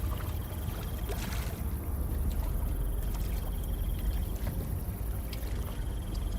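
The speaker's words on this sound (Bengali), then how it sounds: "পলাশ নৌকার দাঁড় টানতে শুরু করে দেয়।" A wooden boat is rowed with oars across a marsh lake, giving steady water swishes and light splashing under a constant wind-like wash, with no voices.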